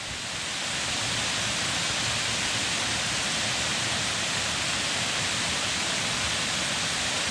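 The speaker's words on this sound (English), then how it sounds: "Here's the lower waterfall that we couldn't see from the other side up there." A tall waterfall fed by a creek roars in a steady, broadband wash of falling water, constant and fairly close with no voices.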